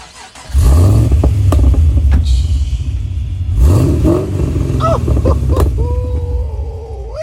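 A car engine idles, then revs up in a couple of throaty bursts, close by, with brief clatter and a faint voice near the end.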